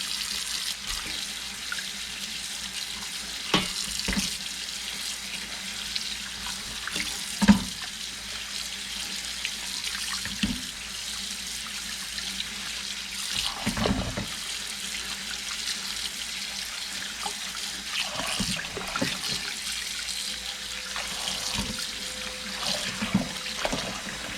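A kitchen tap runs steadily while meat and bones are rinsed and rubbed clean for a Cambodian Phnom Penh noodle soup, with a constant water hiss and occasional splashes and clunks.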